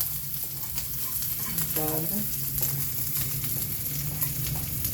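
Garlic and onion sautéing in a pan for ginataang bagoong: a steady close sizzle of frying with occasional stirring scrapes, no talking.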